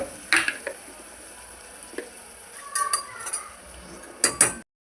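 Chopped onion frying in oil and ghee in a pan, a soft sizzle under intermittent metallic clinks and scrapes of a spoon stirring, close and fairly quiet.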